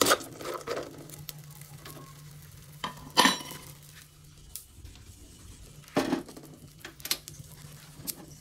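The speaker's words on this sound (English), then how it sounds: "the next step is to cook the inner tube pieces" Rubber pieces cut from a tire inner tube cooking in used oil inside a metal container, a soft steady sizzle and patter with occasional stirring scrapes and metallic clinks, close by.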